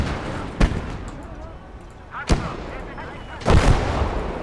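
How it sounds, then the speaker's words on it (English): Anti-tank infantry fire striking a tank in the war game Kampfgruppe: three sharp, loud impacts spaced about two seconds apart, the last a longer rumbling blast, over a steady battlefield rumble. "we're getting hit by anti-tank infantry here"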